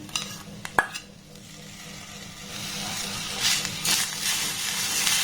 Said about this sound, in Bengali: আবার একটু নাড়াচাড়া করে নেব